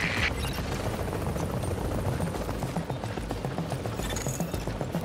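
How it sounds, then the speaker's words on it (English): Helicopter arriving for an extraction in The Division video game, its steady rotor thump and engine drone filling the whole stretch at constant loudness, with busy mechanical clatter layered over it. "chopper is inbound."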